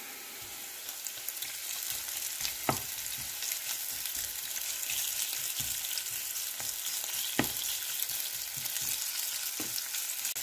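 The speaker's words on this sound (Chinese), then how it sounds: "锅热，先加入洋葱和蒜，再炒出香味后，加入肉片" Onion, garlic and sliced meat stir-fried in a hot wok, a steady broadband sizzle with scattered sharp clicks of a spatula against the pan, no one talking.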